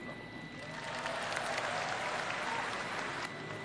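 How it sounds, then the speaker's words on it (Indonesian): Steady audience applause, a dense even clatter of many hands clapping throughout, moderately loud with no voices standing out. "Tepuk tangannya kurang semangat."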